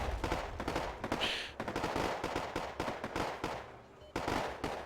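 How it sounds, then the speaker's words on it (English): Mortar and gunfire in the war strategy video game Wargame: AirLand Battle, with repeated loud explosive bursts and rapid firing packed densely across the scene, briefly dropping back before another volley. "Long range mortar support."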